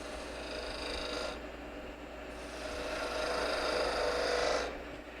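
Skew chisel cutting a spinning wooden workpiece on a lathe, a steady scraping rasp over low motor hum that swells in two bursts as the edge arcs in and bottoms out.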